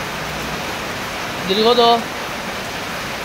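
Heavy rain pouring steadily with floodwater in a house, a constant hiss of falling water throughout, briefly overlaid by a spoken word in the middle.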